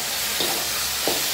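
Spicy chayote being stir-fried in a pan, a continuous close sizzle with two brief swells as the ingredients are stirred.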